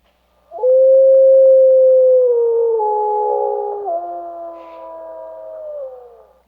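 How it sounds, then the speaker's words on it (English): A single long wolf howl rises abruptly, then holds as a loud, clear tone that bends downward partway and slowly fades, heard alone against silence. "Now watch the sound of a wolf howl represented in this spectrogram"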